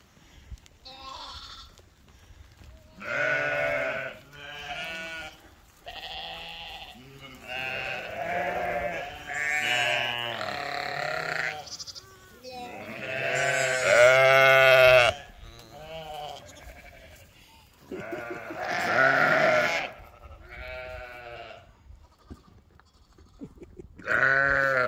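Sheep bleat repeatedly in a pasture, several loud close calls overlapping and answering one another in uneven bursts with short pauses between.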